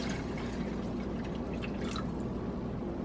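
A steady, close stream of water with granulated stock pours and splashes into a soup pot, continuous and fairly loud throughout.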